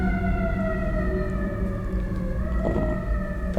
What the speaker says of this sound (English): maybe we should wait for this siren so you can hear what you're saying